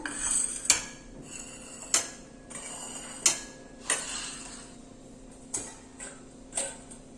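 Flattened rice (poha) shaken in a metal sieve or strainer, heard as a series of sharp metallic clinks and rattles at irregular intervals over a soft continuous rustle, close and fairly quiet.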